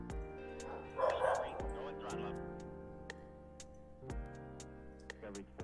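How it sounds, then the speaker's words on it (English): A pet dog lets out a cluster of yips and barks near the start, then falls mostly quiet beneath steady background music with faint ticking. "Alright, my dog is acting crazy."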